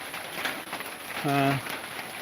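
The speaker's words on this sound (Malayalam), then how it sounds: "ഫാമിൻ്റെ ഷീറ്റിൻ്റെ മുകളിൽ വെള്ളം വീഴുന്നതിൻ്റെ ശബ്ദം" Steady patter of rain drumming on a farm's metal sheet roof, constant and close, with a brief hum-like tone partway through.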